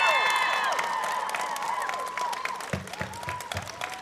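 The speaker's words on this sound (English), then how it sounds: "return the applause and show some thanks for your support" Graduates clapping for their supporters at a university convocation ceremony in a large hall, crowd applause fading in and out with tonal bursts and a few louder claps.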